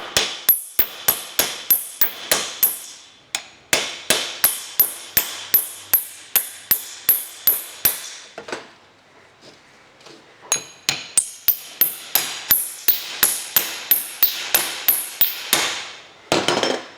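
A hammer strikes a propeller shaft's universal joint over and over to knock it loose, producing sharp, ringing metallic blows in quick rhythmic bursts with a short pause midway, close and loud.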